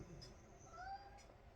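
A cat gives a short, faint meow partway through, quiet and a little distant, with faint room noise and a person's voice nearby.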